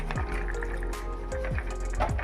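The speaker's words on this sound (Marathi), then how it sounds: "ही डाळ मी या चाळणीत टाकून छान अशी निथळून घेते" Soaked lentils, a cupful, drain in a sieve as water trickles and drips steadily through the mesh, close and fairly quiet, with a few small splashes and no talking.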